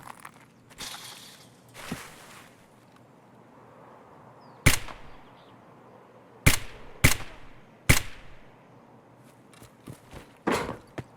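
Gunfire in the video game Escape From Tarkov: several sharp, punchy single shots spaced irregularly, some in quick pairs, with softer rustling and movement between them.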